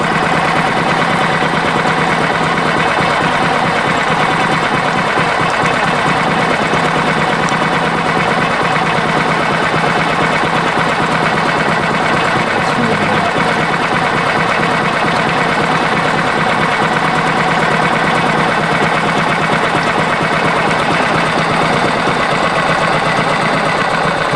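A Yamaha outboard motor idles low and steady, a continuous loud mechanical drone with a slight knocking texture that runs unbroken throughout, with no voices.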